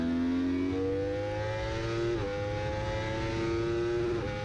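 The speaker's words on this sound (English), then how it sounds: "And listen to the bike sing here." Yamaha R1 superbike engine in the SBGP racing video game, revving high and climbing steadily through the gears with two sharp shift drops, a loud continuous tonal whine with no talk.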